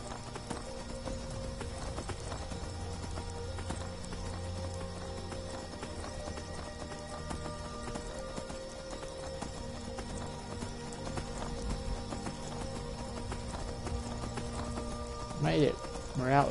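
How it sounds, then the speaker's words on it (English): Rhythmic horse hoofbeats clip-clop steadily throughout over a busy Skyrim game soundscape, ending with a short horse whinny and some talking near the end. "yeah, delayed horse sound effects"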